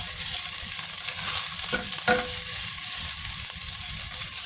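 Plenty of chopped garlic stir-fries in hot oil for a simple Filipino dish, a continuous close hiss of sizzling with a couple of clinking scrapes of a utensil against the pan, no talking.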